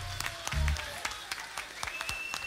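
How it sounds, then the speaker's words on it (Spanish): An audience at a live Christmas-season regional Mexican band concert in Ayotla, Mexico claps in scattered, uneven bursts, fairly faint and distant. "Aplausen, aplausense."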